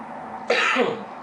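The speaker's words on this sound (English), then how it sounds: "Very sorry for my cough" A single short, rough cough bursts out close by, breaking a quiet background hum.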